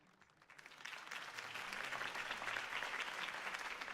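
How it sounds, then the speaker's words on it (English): A video game crowd breaks into applause that swells quickly and holds steady, a dense wash of clapping at moderate distance. "could have heard that applause"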